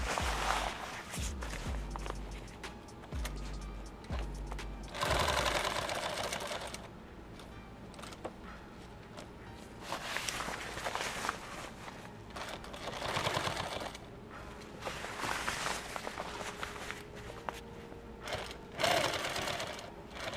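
A sewing machine stitches a kit bag in rapid, rattling bursts that stop and restart several times, close and fairly loud, with a few handling knocks between runs.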